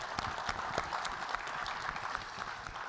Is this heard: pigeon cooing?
no